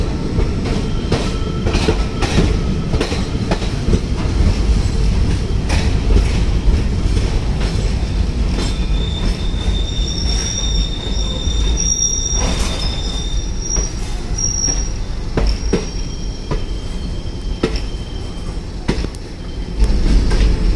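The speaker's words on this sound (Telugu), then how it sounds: "సో రైట్ టైంకి మూవ్ అయింది ట్రైన్" A train pulls away from a station, wheels squealing on the rails in long high-pitched whines over a loud, steady rumble and rhythmic clatter of cars rolling past.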